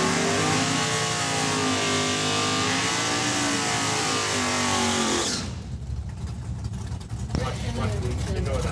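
Drag racing cars, a 1964 Belvedere and a 1978 Chevrolet Camaro, roar at a raceway with a loud, sustained engine scream that rises in pitch. The roar then cuts to quieter crowd and track ambience with a sharp bang near the end.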